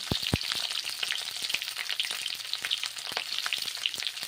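Cauliflower florets frying in hot mustard oil for a vegetarian ghugni, a continuous crackling sizzle with scattered pops and a couple of low knocks at the start, fairly quiet and without talk.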